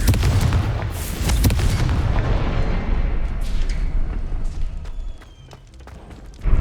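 In the video game Hogwarts Legacy, the Confringo spell sets off a loud, booming explosion that rumbles for several seconds and then fades. A second sharp burst follows at the end, with no speech.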